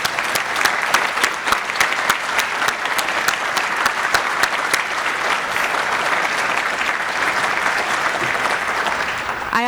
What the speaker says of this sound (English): I want to give them applause.